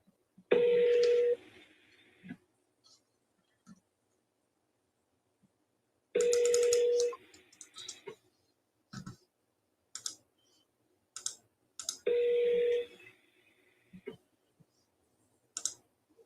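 A telephone call being dialled: three long electronic ringback tones come one after another, each a few seconds apart, with soft clicks and taps scattered between them. The sound is close and clear, and no one speaks over it.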